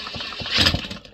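An old Homelite C-5 chainsaw engine is pulled over and briefly sputters toward starting, a short, rough burst of engine noise heard up close with no talking.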